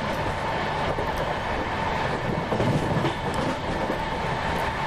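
Shatabdi Express passenger train in the Indian Railways MSTS simulator, running at speed between Vapi and Valsad: a steady, loud rolling rumble of wheels on track with faint clickety-clack, continuous and without speech.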